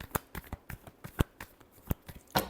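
Tarot cards shuffled by hand, a series of quick, crisp riffling snaps and slaps in irregular bursts, close and fairly quiet.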